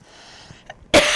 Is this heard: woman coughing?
yes